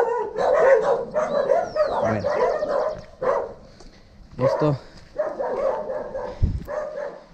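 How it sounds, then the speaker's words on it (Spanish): Dogs in a rough hillside neighborhood bark, yip and whimper in bursts, fairly close, while someone talks over and between them. "Y los perritos ahí."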